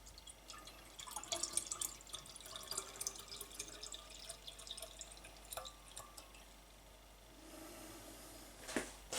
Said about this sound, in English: now I want to fill it up to the top with cooled boiled water